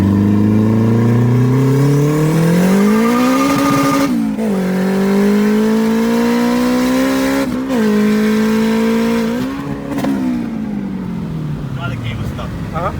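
A turbocharged K20-powered EK sedan engine revs hard with its throttle cable stuck, its loud sustained drone rising and falling in pitch over several surges, with people talking over it.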